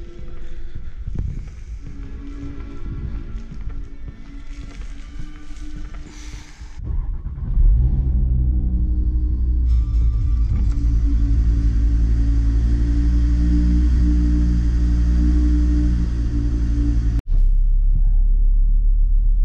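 A car engine starts up and settles into a loud, deep rumbling idle, heavy low drone dominating after a few seconds of mechanical clatter, briefly interrupted near the end.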